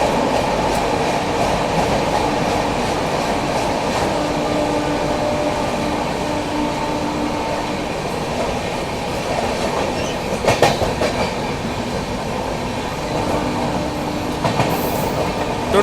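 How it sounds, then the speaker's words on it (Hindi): Bihar Sampark Kranti Express running at speed through Tundla Junction railway station, with steady loud rumble of wheels on track, rhythmic clickety-clack of rail joints and brief sharper clatters near the end, no voices. "यहाँ पर अपनी बिहार संपर्क क्रांति एक्सप्रेस स्किप कर रही है टुंडला जंक्शन रेलवे स्टेशन को"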